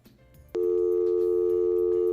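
A steady telephone dial tone sounds on a broadcast phone line after a caller drops off the news program. It starts abruptly and holds loud and continuous over faint background noise.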